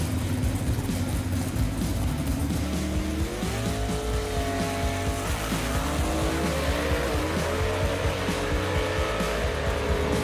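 A 1958 Corvette and a 1955 Chevy gasser roar down a drag strip in an A-Gas class race, loud engines rising steadily in pitch through the gears with tire squeal, continuous and close for the whole run.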